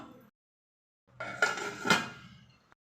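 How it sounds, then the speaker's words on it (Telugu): A metal lid set down on a cooking pot in a kitchen, a couple of short clanks and a scraping rattle, close and fairly faint after a moment of silence. "ఇలా మూత పెట్టి ఉంచుతాను"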